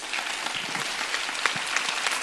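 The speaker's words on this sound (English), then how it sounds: "A big applause for our speaker." Applause from a convention audience for a speaker, an even, steady patter of many hands clapping throughout.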